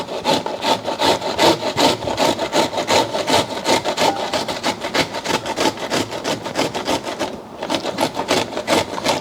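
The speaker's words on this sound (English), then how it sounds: "you can start grating your cauliflower there" Raw cauliflower is rubbed against the large holes of a box cheese grater in quick, rhythmic rasping strokes. The scraping repeats steadily and close up, with no talking.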